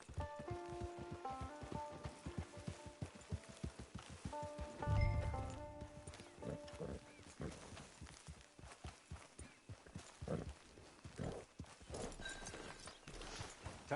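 A horse walks in Red Dead Redemption 2, its hooves clip-clopping in a steady, close rhythm while a melodic music score plays underneath and one brief louder thump lands partway through.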